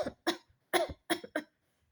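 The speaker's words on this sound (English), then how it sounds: "How long have you had that cough?" A series of five sharp coughs in a quick, uneven burst, close and loud, from a person with a persistent cough in a damp cellar, then silence.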